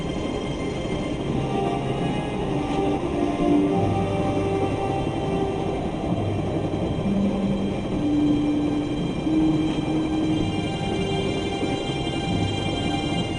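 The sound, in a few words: electric train running, from Broken Sword video game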